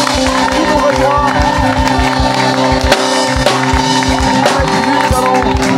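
Studio audience at a Christian worship broadcast cheering and acclaiming, crowd noise layered over loud music with steady rhythmic beats, sustained and close throughout.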